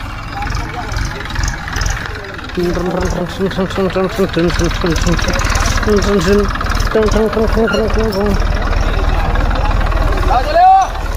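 A tractor stuck on a farm idles with a steady low engine rumble throughout, while people talk over it and a brief rising whine comes near the end.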